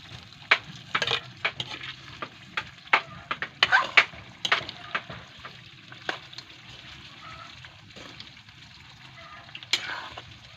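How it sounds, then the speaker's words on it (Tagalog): Adobo Chino sauce, a Bicol dish, is stirred in a pan with a utensil, giving irregular light scraping and clinking taps over a soft, steady simmer, fairly close and quiet. "Kailangan siyang haluin para hindi siya mamuo-muo."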